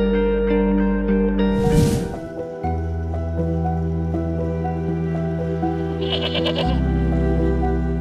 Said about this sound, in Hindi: हाँ, एक बकरी खरीदी है मंडी से और वो मुलाजिम लेकर आ रहा है पीछे।